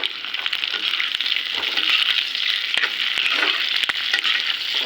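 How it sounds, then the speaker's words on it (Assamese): Boiled eggs hit hot oil with onions fried golden, giving a steady, close sizzle with occasional stirring clicks throughout. "এতিয়া বইল কণীকেইটা এড কৰি"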